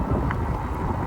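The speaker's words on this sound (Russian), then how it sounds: "Ветер реально прям сильный." Strong wind gusts outdoors on a rough country road, a loud steady roar and buffeting rumble across the microphone with no voices.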